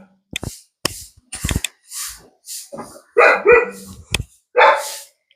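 Several sharp dog barks come in irregular bursts, near and loud, mixed with a few short human voice sounds.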